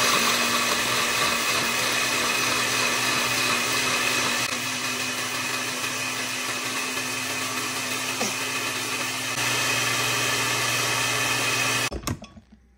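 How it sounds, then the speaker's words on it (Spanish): A blender blending a spicy aguachile sauce with lime whirs loudly and continuously, its motor tone shifting slightly partway through, then abruptly cutting off near the end. "Prendemos la licuadora."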